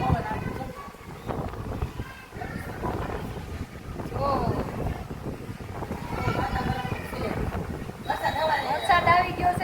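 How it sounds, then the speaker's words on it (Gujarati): Wind gusts buffet the microphone outdoors near a ro-ro ferry as rain begins, a steady rumbling roar with people talking over it throughout. "અહીંયા મસ્ત પવન આવે"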